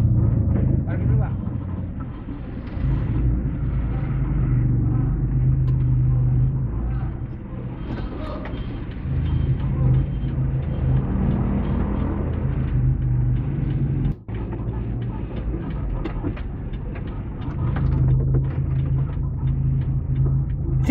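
A pickup truck carrying scaffolding maneuvers into a parking spot, its engine rumbling loudly and steadily with small surges, while people nearby call out directions over it.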